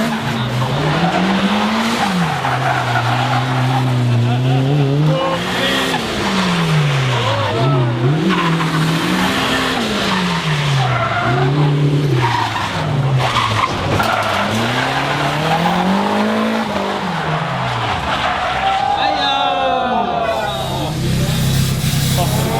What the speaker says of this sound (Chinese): tandem 就是两车一起漂移